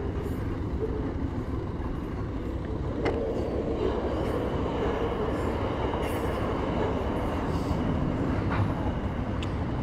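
A long painted Northline freight train rumbles past in the Australian outback, a continuous dense roar of wheels and wagons with occasional clanks, steady and close for the whole stretch.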